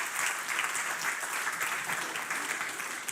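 A conference audience at a social forum in Porto applauds a minister called to the stage, with dense steady clapping throughout and a faint voice beneath.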